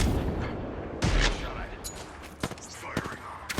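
Gunfire in the Apex Legends battle royale game, with loud bursts and scattered sharp shots over busy game ambience, mixed with occasional voice lines.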